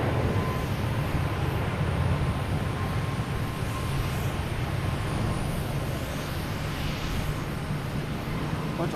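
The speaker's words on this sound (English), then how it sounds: "Bunch of loud planes." Jet aircraft at Boston Logan Airport, taking off and landing, give a steady, loud broadband roar that holds throughout with no break, close and dominant, with no clear talk above it.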